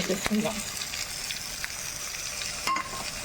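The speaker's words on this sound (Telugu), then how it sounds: "ఇప్పుడు మనం ఫ్రై చేసుకుందాం" Taro root (arbi) pieces with ginger-garlic paste frying in a pan, heard as a continuous close sizzle with stirring scrapes and a few brief utensil knocks.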